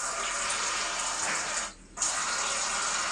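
A handheld water spray gun on a newly installed shower heater hisses steadily with water, its spray cut off briefly and then resuming at full strength.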